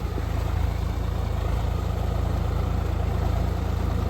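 A tractor engine runs steadily and loud while puddling a maize field, a continuous low rumble throughout with no speech.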